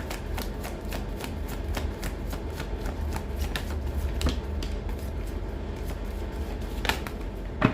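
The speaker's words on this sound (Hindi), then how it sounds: "last shuffle angels" Tarot cards shuffled continuously, a steady papery riffle with frequent sharp flicks and taps over a low background hum, close and moderately loud throughout.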